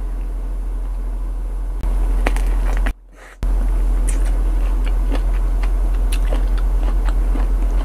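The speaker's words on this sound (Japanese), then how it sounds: "これをまず 普通にどのぐらい酸っぱいか 噛んでみます" Someone biting and chewing a raw whole lemon in close-miked ASMR style, producing sharp crisp crunches and wet chewing clicks over a steady background hum, with a brief silent gap partway through.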